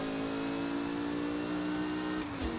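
Car engine in Forza Horizon 5, driven with a steering wheel while drifting: a steady, droning engine note holds at high revs, then dips and shifts briefly near the end, up close and with no speech.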